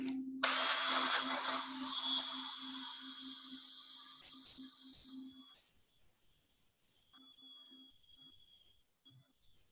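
Abrasive sanding of a turned wooden bowl spinning on a lathe, with the lathe motor's steady whine and a loud gritty rush of paper against wood for about five seconds, then a quieter motor hum with faint contact.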